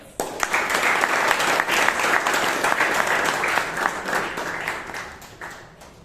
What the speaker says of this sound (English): let's give everyone who came on stage a round of applause